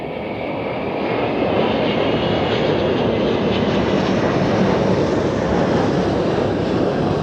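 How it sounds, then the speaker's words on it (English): An Airbus A380 landing at Zurich Airport roars past close up, its heavy engine rumble building in the first second and then holding loud and steady. "Here we go, A380 landing."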